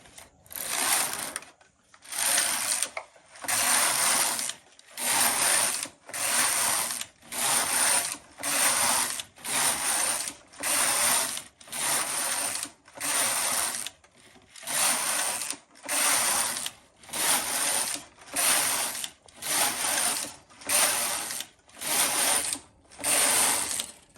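An HK-160 knitting machine carriage makes about twenty loud, even passes back and forth, each a rattling mechanical clatter with short pauses between strokes and no talking.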